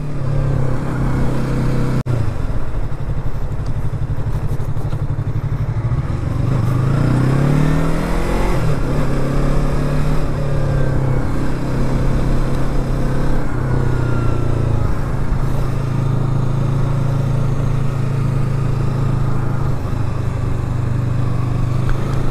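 A motorcycle being ridden on a nice day out for a stunt ride, engine droning steadily and loudly throughout, rising and falling as the throttle changes, close to the rider with heavy wind rush and no talk.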